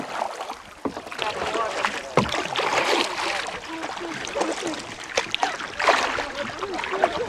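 A kayak glides across a lake in Lithuania's Aukštaitija region, with steady paddle strokes and light splashes of water close by, while people talk over the paddling throughout.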